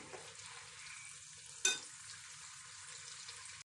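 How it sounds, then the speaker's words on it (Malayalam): Steady sizzling of onions frying golden brown in hot oil for biryani, a soft continuous crackle with one brief clink of a utensil stirring midway. "സവാള പൊരിക്കുമ്പം വളരെ എപ്പോഴും ഇളക്കി നല്ലതുപോലെ ഒരേ നിറത്തിൽ വറുത്തെടുക്കണം."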